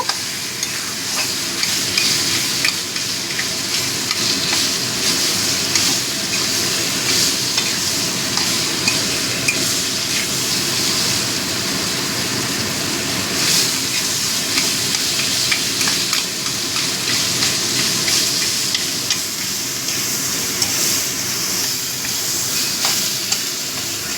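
Olives fry in a pan for a Bengali chutney while being stirred, producing a steady close sizzle with repeated scraping and rustling strokes of the spatula.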